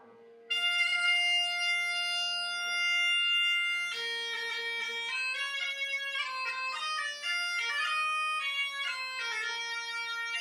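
An Asturian gaita starts with a sustained reedy drone, then a bright, ornamented melody plays over the drone, loud and close, with no singing heard yet.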